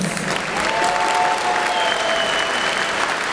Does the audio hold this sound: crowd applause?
yes